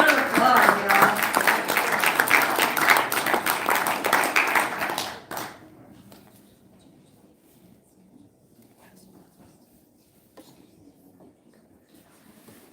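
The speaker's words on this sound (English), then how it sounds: "Give a round of applause, y'all." A crowd at a gun owners lobby day applauds loudly for about five seconds, then the clapping stops abruptly and the room falls to quiet background murmur.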